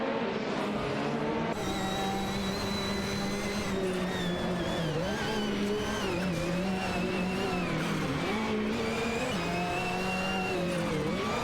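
Racing engines, a Ferrari 488 GT4 among them, drone steadily through a simulated GT4 car race, a continuous loud tone that bends up and down with shifts and revving and has no pauses.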